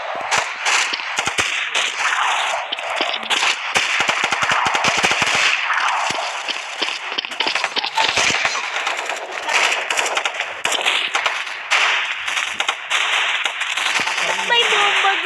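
Rapid, dense gunfire rattles almost nonstop in the SFG2 shooter game, with shotgun blasts layered into a busy, loud firefight of sharp cracks and bursts.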